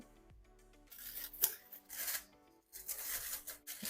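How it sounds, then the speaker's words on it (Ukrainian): Crinkly plastic rustling and a few short snipping cuts as a roasting bag holding a duck baked with apples and prunes is slit open, close and quiet, with no talking. "Зараз я розрізаю пакет для запікання."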